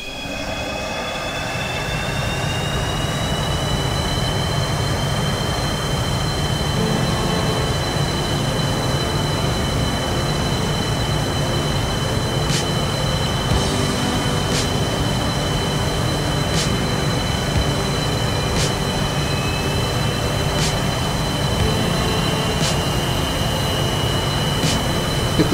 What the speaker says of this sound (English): we can start the right or number 2 engine